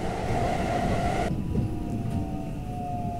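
A Hapi-Line Fukui train running inside the Hokuriku Tunnel, a loud steady rumble of the wheels with a high tone and a faint squeal, heard from on board.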